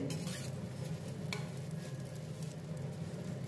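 Fresh chhana being stirred in hot ghee in a pan at home, a soft continuous sizzle with light scraping of the spoon and a brief metallic clink, quiet and steady throughout.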